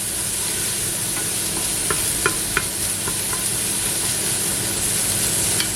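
Onions sautéing in a pan with oregano, a steady, even sizzle with faint stirring clicks running throughout, close and continuous with no talking.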